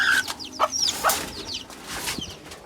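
Native deshi chicken chicks being caught from a rooftop coop, giving quick high chirps and clucks with bursts of flapping wings, close and fairly loud, no talking.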